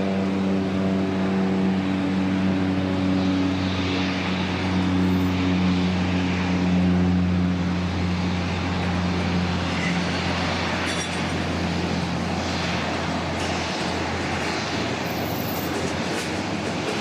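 Aircraft passing at Auckland Airport, a loud sustained droning roar with a low humming tone that holds steady throughout, heard from outdoors.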